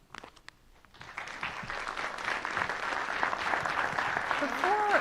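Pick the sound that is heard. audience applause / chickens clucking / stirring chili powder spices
audience applause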